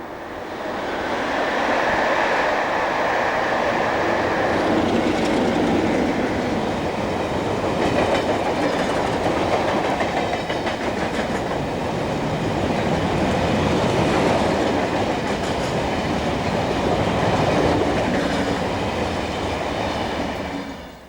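A heavy train hauled by a pair of Class 33 diesel locomotives rumbles past at length, engines droning loudly over rhythmic clickety-clack of wheels, steady and close throughout.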